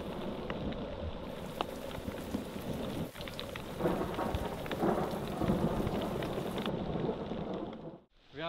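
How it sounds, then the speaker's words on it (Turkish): A thunderstorm breaks directly overhead above open ground, with steady heavy rain pattering all around, a sharp nearby thunder crack partway through and rolling rumble, the downpour loud and continuous throughout. "Tam tepemizde bir şimşek fırtınası var."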